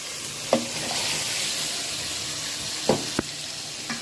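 Beef pieces tipped into a pan of spices fried down in oil for a beef curry, giving a steady close sizzle with a few brief clatters and stirring knocks.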